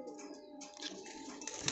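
Soft, low pigeon coos repeat close by during a pigeon's water bath, with faint rustling and brief chirpy bursts between them.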